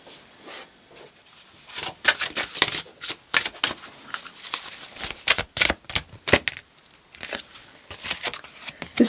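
Oracle cards are shuffled by hand during a tarot reading, giving a series of sharp, papery riffles and slaps in quick irregular bursts, close and fairly loud, with no talking.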